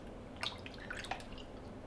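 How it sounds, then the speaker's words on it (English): Hands wetted with water while making nigiri sushi: faint, sparse drips and small wet splashes in a quiet kitchen, a few soft taps close by. "Wet our hands."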